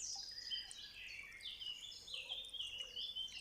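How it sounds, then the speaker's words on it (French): Small birds chirp and trill in overlapping high bright calls, continuous and moderately near, over a faint hiss of background ambience, with no one talking; a seaside setting with sand underfoot and the sea in view. "Vous entendez les oiseaux."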